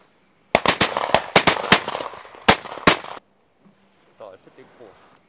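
A rapid burst of about a dozen sharp, loud gunshots from a shooting session rings out close by in a quick irregular volley, then stops, leaving faint movement and low voices afterward.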